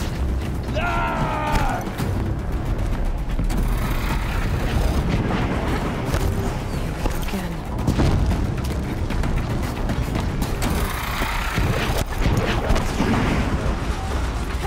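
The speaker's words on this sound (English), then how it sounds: "An explosion." In the video game Horizon Zero Dawn, an explosion's deep, rumbling roar keeps up as a dense, loud wash with creaking mechanical clatter mixed in, and there is no talking.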